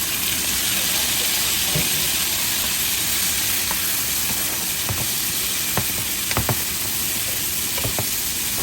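Tomatoes go into a pan of browning garlic for a pochero, setting off a loud, steady sizzle and frying hiss throughout, with a few faint stirring clicks and no speech.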